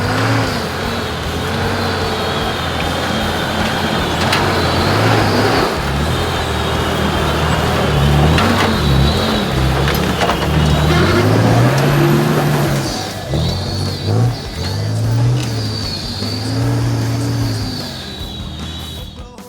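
Nissan Patrol 4WDs climbing a steep hill, engines revving hard and loud up close, labouring and rising in pitch as the trucks crawl upward, then easing off as they pull away.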